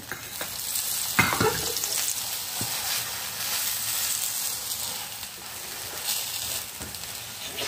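A pumpkin paratha frying in a pan gives a steady, close sizzling hiss throughout, with a brief scrape or flip near the start, and no talking.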